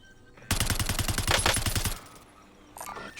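Rapid automatic gunfire in a tactical shooter video game, a loud sustained burst of evenly spaced shots lasting about a second and a half, then tapering into quieter ambient game sounds with a faint later rustle.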